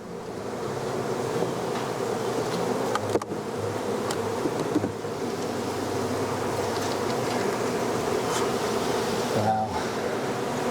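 Honey bees swarming during extraction from the wall of an old abandoned house, a steady dense buzzing hum throughout with a few brief knocks and clatters.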